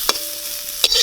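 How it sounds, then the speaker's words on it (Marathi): Onion, tomato, coconut, garlic and ginger are stir-roasted in a pan, with two quick, loud scraping stirs over a soft background sizzle and no talking. "आता आपण याच्यामध्ये खोबरं, लसूण आणि आलं पण घालून भाजून घेऊया चांगलं।"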